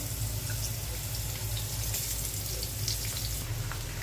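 Sweet pumpkin slices frying in a pan, a steady soft hiss with a constant low hum underneath, continuous for the whole stretch with no talk.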